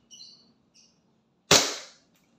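Airsoft WE Glock 19 Gen 4 pistol firing a single shot during a chronograph test: a sharp, close crack that fades quickly, preceded by faint high chirps.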